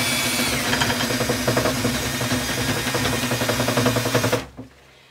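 A power drill spins rotary chimney cleaning rods with a loud, continuous whirring grind and rhythmic scraping, then cuts off abruptly near the end, leaving near silence.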